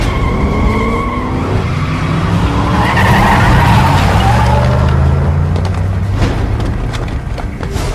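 A vehicle skids through a U-turn in the video game Metal Gear Rising: Revengeance, a loud, sustained tire squeal over a roaring engine, its pitch bending as the turn tightens, with a sharp impact near the end.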